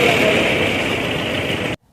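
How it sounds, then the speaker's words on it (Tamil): A Bajaj Chetak scooter engine runs at a steady close idle with an even, buzzing drone, then cuts off abruptly into near silence. "அதிர்ஷ்டவசமாக இந்த வண்டி ஒரே கிக்கில் ஸ்டார்ட் ஆகிடுச்சு"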